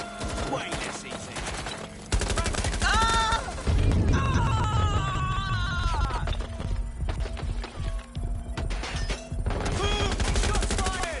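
Gunfire in Watch Dogs: Legion, a dense run of game shots and impacts under music and game effects, loud and near, with synthetic voice lines in between.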